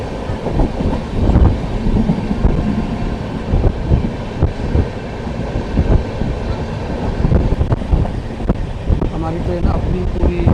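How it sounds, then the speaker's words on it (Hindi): The Amritsar Ajmer Express passenger train running at full speed around 112 km/h, a loud continuous rumble with rhythmic clacking of wheels over rail joints and wind buffeting, heard from on board. "हमारी ट्रेन अपनी पूरी गति के साथ आगे बढ़ते हुए 112 की स्पीड पे चल रही है अभी।"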